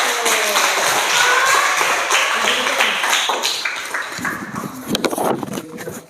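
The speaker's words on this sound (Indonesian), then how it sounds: "Beri tepuk tangan untuk kelompok 1" A classroom group in a school lesson claps for the first team, with bursts of fast, scattered hand claps that fade and then pick up again near the end.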